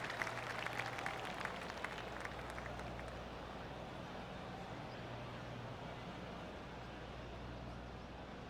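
Scattered golf claps from a distant tournament crowd in the PGA TOUR 2K25 video game at the PGA Championship, a faint patter in the opening seconds that fades into a steady low ambient hiss.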